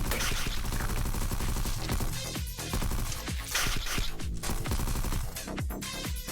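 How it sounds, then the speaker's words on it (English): Enemies open fire in the indie game Bug Alliance: dense, continuous rapid shooting over a loud, busy mix of music and game effects, with no pauses and no talking. "They started shooting at us."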